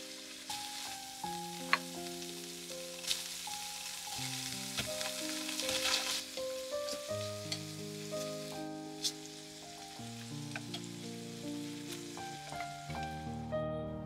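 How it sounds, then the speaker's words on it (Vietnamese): Shiitake and king oyster mushrooms fry in oil for a vegetarian ragout, giving a steady, moderately quiet sizzle that runs throughout beneath a prominent melodic music bed. "Nấm đông cô và nấm đùi gà thì mình cũng chiên sơ qua với dầu này các bạn."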